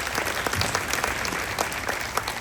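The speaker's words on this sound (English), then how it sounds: "Thank you for clapping for someone you don't even know." Audience applause from a crowd welcoming guests to a stage at a morning event, a steady dense clatter of clapping filling the whole stretch, fairly loud and close with no talking over it.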